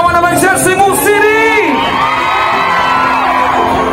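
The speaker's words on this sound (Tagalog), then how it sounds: "Isang malakas na sigawan naman siya, Cebu City!" A large political rally crowd in Cebu City roars with loud, sustained shouting, whoops and cheering, dense and near, with voices rising and swelling throughout.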